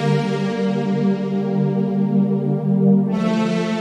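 A sustained ambient synth lead drenched in long reverb sits over a soft pad in a future garage style, steady and smooth, with a bright airy swell brightening the tone near the end; no voices.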